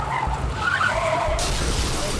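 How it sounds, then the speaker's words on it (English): A top-heavy meat truck tips over and slides on its side during a police chase, a harsh scraping skid with a sudden gritty crash partway through, loud and brief. "to topple the top-heavy truck and send it skidding onto its side"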